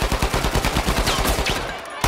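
Rapid bursts of automatic gunfire from an action film rattle loud and close, stacked quick shots in rhythmic volleys that break off briefly near the end before another shot.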